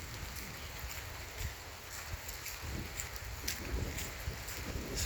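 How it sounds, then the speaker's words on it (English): Steady rain patters outside, a soft continuous hiss with occasional drips and taps nearby, no voices. "It's raining out."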